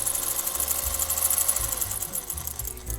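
A sewing machine sews an invisible zipper into a pillow cover, producing a fast, steady mechanical whir with a rapid needle rattle. It runs continuously at close range, pulsing slightly as the speed varies.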